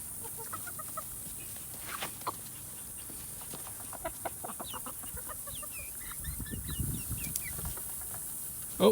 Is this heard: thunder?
no